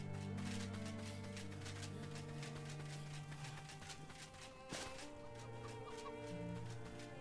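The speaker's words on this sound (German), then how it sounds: "Hühner!" Chickens clucking in the video game Enshrouded, a steady run of close, layered hen clucks over continuous game music and ambience, with no talk.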